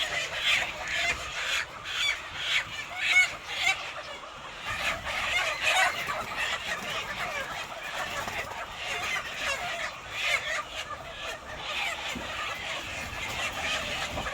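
Lots of poultry cluck and gobble at once, a constant crowded barnyard din that swells and dips without pause.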